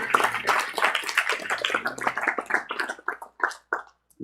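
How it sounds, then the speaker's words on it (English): Audience clapping at a church livestream gathering, a dense burst of hand claps that thins out into sparser, uneven individual claps before stopping. "Get him a clap and come up here."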